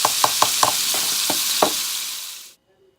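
Ground beef browns in a pan for a cheeseburger macaroni dish, a steady close sizzle broken by about seven sharp knocks of a utensil stirring against the pan before the sound cuts off abruptly.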